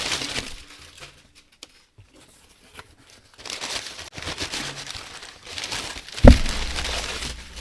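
Packing paper crinkles and tears while Funko Pop figures are unboxed, in close, loud bursts of crumpling with short quiet gaps between them.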